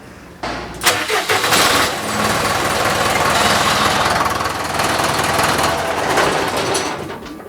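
An air compressor fills the air suspension tank on a truck converted into a tiny home, starting abruptly and then holding a loud, steady, close mechanical roar with no voices.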